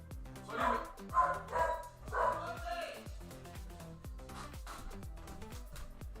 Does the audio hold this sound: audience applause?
no